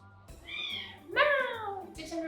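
Pet cat named Glenny in a home kitchen, giving two close meows, the second louder with a falling pitch, followed by a short chirp at the end.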